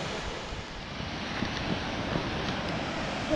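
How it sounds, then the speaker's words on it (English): Devils Bridge waterfall in Wales roars as a steady, broad rush of falling water, heard from a viewing deck above it, with some wind buffeting the microphone. "we're going to stand on the decking that overhangs the waterfall now"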